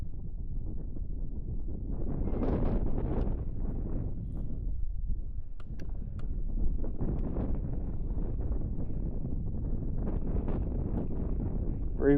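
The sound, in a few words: wind blowing on a lake while fishing from a boat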